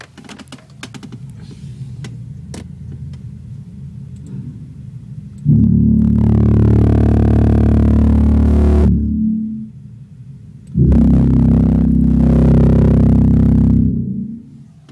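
Two long, loud, booming low notes, the lowest bass of a Hauptwerk virtual organ played through a speaker, each holding for several seconds, separated by a brief quieter gap.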